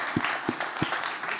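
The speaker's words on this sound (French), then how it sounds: "on peut vous applaudir" Applause from an audience at a regional award ceremony, a steady crowd clapping with a few sharp, louder claps standing out near the microphone.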